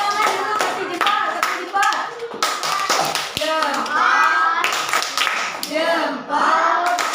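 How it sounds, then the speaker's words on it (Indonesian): Children in an elementary classroom clap their hands in quick, near bursts mixed with lively kids' voices and a teacher talking over the rhythm. "Tepuk tangan dulu, kasih jempol"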